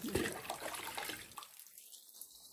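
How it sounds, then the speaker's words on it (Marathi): Faint splashing of warm water poured while bathing a cow, for about a second and a half, then it stops and only quiet background remains. "गरम गरम पाण्याने तुला आंघोळ घातली ना."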